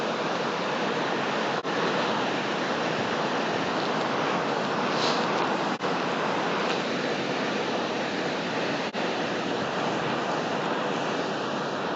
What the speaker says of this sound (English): That's quite dramatic, the waterfall.